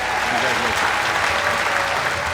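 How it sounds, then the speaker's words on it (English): Audience applause for an angler at the 2002 FLW fishing championship on Lake Champlain, a dense, even roar of clapping that holds steady throughout, with crowd noise and a voice faintly mixed in. "Let's give him a great round of applause."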